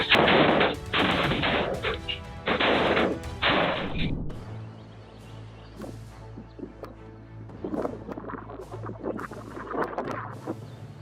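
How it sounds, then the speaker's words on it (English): A tilted box of fireworks misfires in a yard, giving a series of loud, sharp, crackling bursts and bangs in quick succession. The bangs then give way to fainter scattered pops and a low steady hum. "Sparks shot wildly across the yard. As a tilted firework box misfired"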